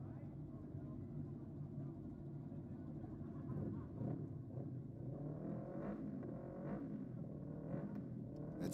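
Drag racing motorcycles roar at a nitro drag strip, a loud, steady engine drone with rising revs and bursts of acceleration, mixed with crowd ambience and a commentator talking over it.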